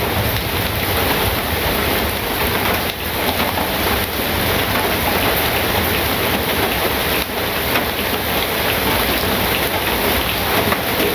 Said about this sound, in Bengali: গুড়ি গুড়ি গুড়ি গুড়ি বৃষ্টি আছে।